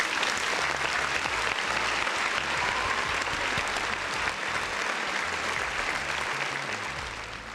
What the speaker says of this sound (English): Listen, round of applause for the folks in the chat.